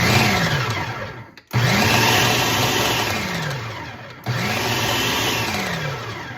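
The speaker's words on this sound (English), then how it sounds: "So in the food processor, and we're gonna make our crumbs." A food processor pulses bread ends into crumbs in three long loud bursts, each motor whirring steadily, with a brief stop between them.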